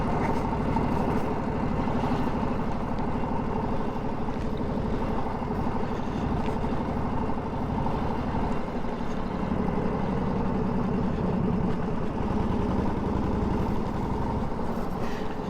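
A 1942 Harley-Davidson WLA motorcycle engine runs steadily in top gear at about 25 mph for a long stretch, a continuous low throbbing rumble with a gritty mechanical texture and no talking.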